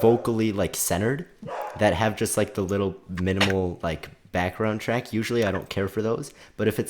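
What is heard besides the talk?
No everyday noises stand out.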